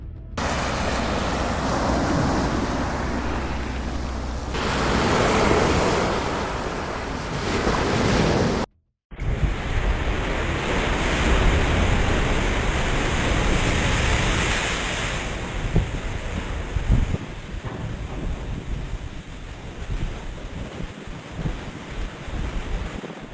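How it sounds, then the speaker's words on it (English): Towering ocean waves and strong wind out on the North Sea, a loud continuous roar of surf and buffeting wind noise with one brief cut partway through. "strong winds and towering waves are just part of life"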